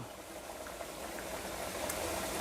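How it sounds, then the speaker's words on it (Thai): Water boils steadily in a pot for cooking Thai jungle curry, a continuous bubbling hiss with small pops, close and even from start to finish. "ตอนนี้น้ำเดือดได้ที่แล้วนะครับ"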